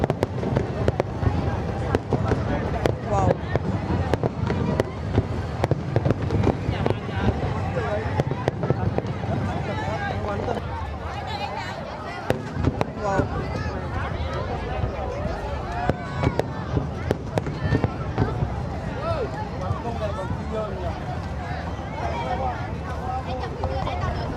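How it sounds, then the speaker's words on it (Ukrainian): Fireworks burst at an international fireworks competition in Vietnam, a long run of repeated cracks, pops and booms heard from some distance under crowd babble and nearby talking. "високі фейерверки видно, дивіться, як красиво"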